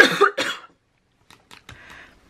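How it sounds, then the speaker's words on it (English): A couple of sharp, close coughs in quick succession, followed by quieter rustling and a faint throat noise. "So I still have a cough"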